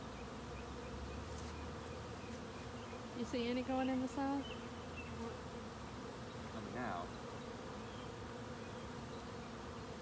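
Honey bees drone steadily around a hive during a spring inspection, a dense continuous buzz with a few closer individual bees passing by, while people speak briefly over it.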